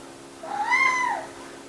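A single drawn-out meow from a cat at feeding time, rising and falling in pitch, clear and close in a quiet indoor space.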